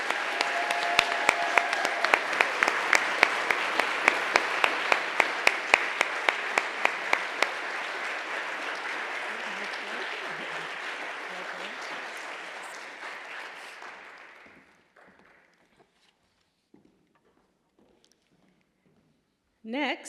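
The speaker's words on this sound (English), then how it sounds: "Please join me in a round of applause" An audience at a public leadership awards ceremony applauds warmly, loud clapping with a few sharp individual claps holding steady for over ten seconds, then thinning out and fading to near silence before a voice begins.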